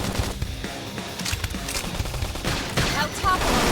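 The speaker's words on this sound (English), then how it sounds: "Topple them with some gunfire!" Rapid bursts of gunfire in Xenoblade Chronicles X crackle and pop in quick succession, loud and dense, mixed with game sound effects and a voice.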